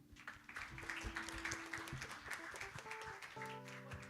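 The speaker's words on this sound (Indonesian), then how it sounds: "Mari kita berikan tepuk tangan." Applause from a church congregation at a Sunday worship service, a dense patter of clapping running throughout alongside sustained music tones and some voices.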